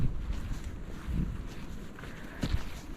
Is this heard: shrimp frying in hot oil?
no